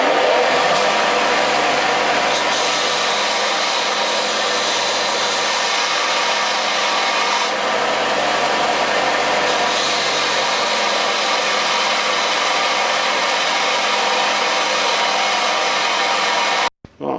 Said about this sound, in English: I used the sander on here and the grinding wheel.